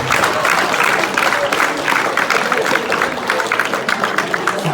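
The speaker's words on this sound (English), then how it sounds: "And big round of applause for contestant number 2." At a high school after-prom hypnotist show, an audience gives a contestant a big round of applause: continuous, fairly close crowd clapping with scattered cheers, steady throughout.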